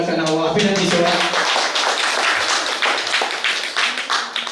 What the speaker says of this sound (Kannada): ಪ್ರಥಮವಾಗಿ ಅವರಿಗೆ ಒಂದು ಚಪ್ಪಾಳೆಯ ಮೂಲಕ ನಾವು ಅಭಿನಂದಿಸೋಣ